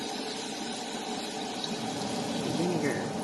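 Vinegar pouring steadily into a cooking pot, a continuous splashing gurgle at close range with a faint voice underneath.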